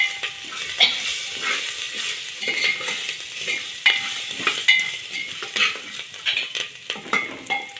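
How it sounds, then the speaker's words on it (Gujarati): Ginger-chili paste sizzles in hot oil with bay leaf while being stirred for khichdi, a steady crackling fry broken by repeated scraping strokes of a spoon against the pot. "એની અંદર આપણે આદુ મરચાંની પેસ્ટ છે એ નાખી દઈએ."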